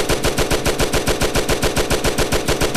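Grease gun submachine gun firing full-auto in the VR shooting game Gun Club VR, a steady rapid stream of loud, evenly spaced shots with no pauses, close and alone.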